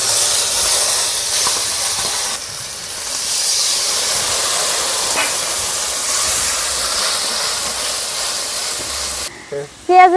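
Cumin, onion-garlic paste, mustard paste and green chilies sizzle in hot oil left from frying fish, giving a loud, continuous hiss that ends with a brief clatter.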